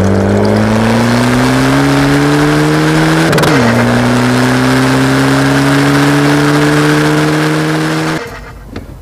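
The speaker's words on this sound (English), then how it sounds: "If you stick your foot to the floor, it picks up, and it picks up really quickly." A 6L-generation Seat Ibiza FR with the 1.9 PD130 diesel accelerates hard: loud, close engine drone rising steadily in pitch, a brief dip at a gear change, then climbing again before it drops away near the end.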